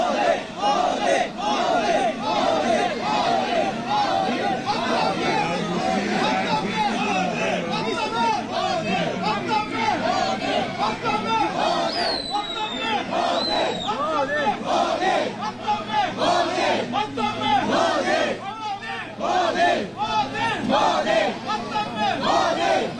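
Large crowd cheering and chanting as the Prime Minister arrives at ISRO, a continuous loud roar of many voices with rhythmic shouts, close and dense throughout, with brief whistles cutting through midway.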